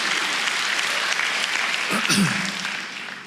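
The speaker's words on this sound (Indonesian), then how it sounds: "Berikan tepuk tangan untuk Tuhan kita." A church congregation in Indonesia claps in a steady wash of applause that swells slightly, then fades toward the end, with a voice briefly heard over it.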